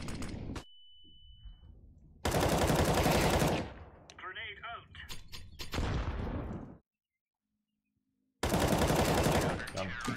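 Bursts of rapid automatic gunfire ring out in a Counter-Strike match, loud and close, separated by brief quiet gaps, with a short spoken remark in between.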